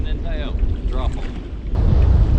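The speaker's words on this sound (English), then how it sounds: "Wind makes everything so much more fun" Wind buffeting a microphone on a fishing boat while crappie fishing, a loud low rumble with gusts growing stronger toward the end, with a voice briefly audible underneath.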